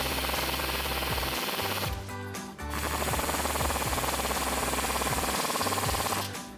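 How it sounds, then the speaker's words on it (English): A 19mm socket tightens the sway bar bolts during a front leveling kit install on a 2022-2024 Toyota Tundra, giving a steady, loud mechanical rattling whir that breaks off briefly and then runs on without talk. "And then take your 19mm socket and tighten both of those down."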